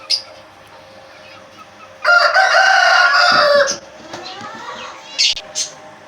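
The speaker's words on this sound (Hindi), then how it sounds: "ये देखिए फ्रेंड, मैंने यहाँ पे रखी हुई हैं असली मुर्गियाँ अपनी।" Real chickens kept indoors in a room with nest boxes during breeding season, a rooster crowing loudly for about two seconds, followed by softer clucking and a couple of short calls.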